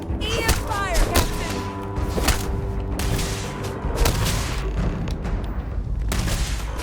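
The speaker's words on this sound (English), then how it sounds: "EM fire, Captain!" Rapid energy-weapon fire from an EM rifle in the sci-fi game Starfield, a dense run of loud zapping shots and thuds over battle noise, with voices calling out across the fight.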